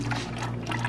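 Old engine oil drains steadily out of an imported Toyota 2JZ VVTi engine in a short, continuous liquid pour with an even, close trickling sound.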